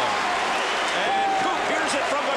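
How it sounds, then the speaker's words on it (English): A basketball crowd roars after a game-winning shot, a dense, loud, unbroken wall of cheering and clapping that fills the whole moment. "The crowd's going wild."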